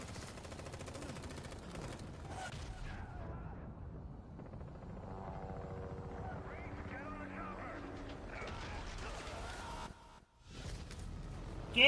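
A helicopter in a video game trailer thrums amid bursts of machine-gun fire and explosions, a dense, loud combat mix that briefly drops out near the end before surging back, with voices speaking over it.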